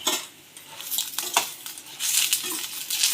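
Citron leaves and vallarai (Indian pennywort) are stirred in a hot pan for a thuvaiyal, making a soft, uneven sizzle with brisk spatula scrapes and clinks across a few seconds and no voices.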